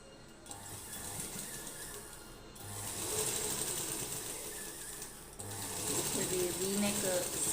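A sewing machine stitches a V-shaped blouse neckline in steady, fast mechanical runs, pausing briefly between bursts, close and clear with a soft hum beneath.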